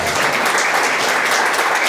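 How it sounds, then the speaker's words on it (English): Warm, dense audience applause for volunteers at a county chamber of commerce awards dinner, a loud continuous roar of clapping throughout. "would you please give them one more warm round of applause"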